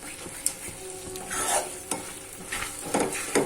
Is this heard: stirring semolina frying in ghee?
yes